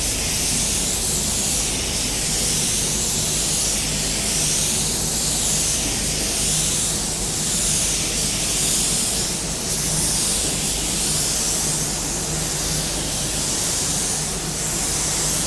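A spray gun lays a second coat of paint on a car door, a steady, close, continuous hiss that swells and eases slightly with each pass, with no talk over it.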